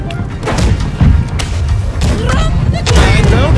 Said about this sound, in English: fire all cannons now.